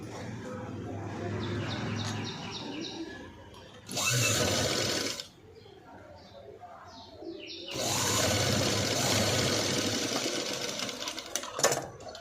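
A sewing machine runs a double line of stitching on a sleeveless cut-work blouse with a padded design, in two steady, close motor bursts separated by a quiet pause, with faint bird calls in the background.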